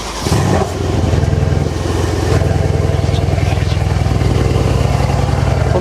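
A 660-horsepower Mercedes-AMG G-Class idles close by, its engine holding a steady, deep, even rumble throughout with a slightly louder burst right at the start.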